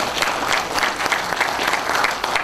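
Steady, dense applause from an audience at a book concert in Jeonju, greeting a Jeonju city council member as guests are introduced, clapping evenly throughout at close range.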